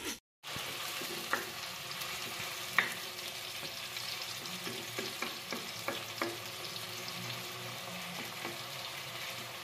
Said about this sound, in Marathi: कांदा लाल होईपर्यंत परतून घेऊया.